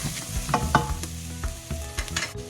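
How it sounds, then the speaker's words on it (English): Chopped onions sautéing in a tablespoon of olive oil in a pan over low-medium heat, a close steady sizzle with clicks and scrapes of stirring, no talk. "add a tablespoon of olive oil and the chopped onions and sauté it on low-medium heat"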